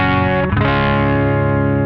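Electric guitar on its neck humbucker played through a SansAmp pedal: one loud, thick, distorted sustained chord with a brief shift midway, washed in chorus and a little reverb, close and alone.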